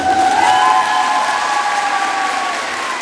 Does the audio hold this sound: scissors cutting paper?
no